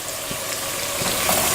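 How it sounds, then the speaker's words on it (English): Finely chopped onions frying in a cup of hot oil for haleem, a steady, dense sizzle and crackle with occasional stirring scrapes, close and continuous throughout. "we're just going to fry these until they go golden brown"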